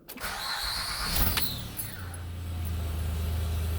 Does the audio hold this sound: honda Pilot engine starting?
yes